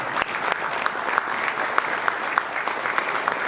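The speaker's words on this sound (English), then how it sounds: "Please give him a round of applause once more." An audience at a business summit applauds steadily after an on-stage conversation, a dense wash of clapping with sharper individual claps standing out, sustained for several seconds.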